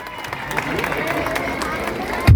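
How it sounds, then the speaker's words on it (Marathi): Crowd applause at a Dahi Handi festival gathering in Yerawada, a steady wash of clapping and hubbub through the clip, swelling louder at the very end. "सगळ्यांनी टाळ्या वाजवायच्यासाठी."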